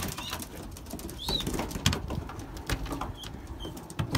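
Belgian racing pigeons move about their aviary, with bursts of wing flapping, soft scuffling and faint bird calls over quiet outdoor background, no talking.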